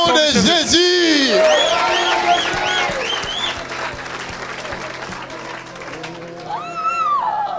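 A church congregation breaks into loud applause and cheering at a religious gathering, sustained clapping swelling over a preacher's sung and spoken exhortation, with whoops rising near the end.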